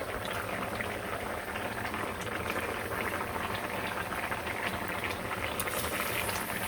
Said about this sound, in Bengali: তো এই যে মাছগুলো দিয়ে দিলাম।